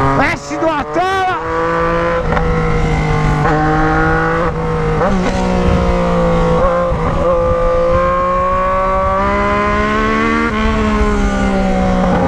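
A Yamaha MT-09 Tracer GT motorcycle fitted with an Atalla 304 stainless steel exhaust revs loudly and close by, with sharp throttle blips up front and then a sustained rising and falling engine drone.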